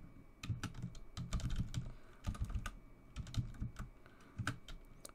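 Fast typing of an SQL query on a computer keyboard, with close, crisp key taps in uneven bursts and brief pauses, carrying on steadily with no voice over it.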